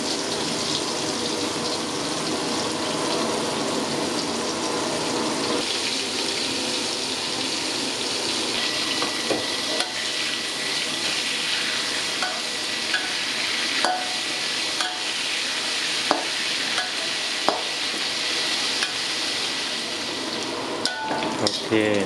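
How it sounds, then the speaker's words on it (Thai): Chicken pieces fry in hot oil in a pan, giving a steady, loud, dense sizzle that runs continuously with occasional crackles and utensil clinks. "เราจะทอดให้เนื้อไก่เหลืองสวย"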